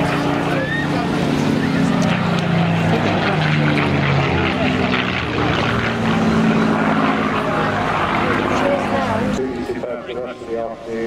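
A propeller aircraft flies past at the Eastbourne air show, its loud droning engine steady for most of the clip before easing, while an announcer talks over the public address.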